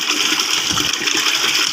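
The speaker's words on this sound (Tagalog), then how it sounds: "lalagyan ko po ng tubig" Water gushes steadily into a container being filled with about 16 liters for a homemade chili-pepper insecticide, a continuous close splashing pour with no talk.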